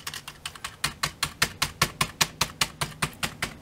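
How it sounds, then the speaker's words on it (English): Computer keyboard struck repeatedly at an office desk, a steady run of sharp, close key clacks about four per second, loud and alone with no talking. "I hit the keyboard."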